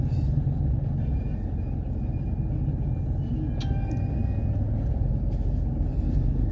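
Steady road traffic in a town street in Mateo, Philippines, with cars and motorbikes passing, making a continuous loud low engine rumble and tire roar throughout, with no talk.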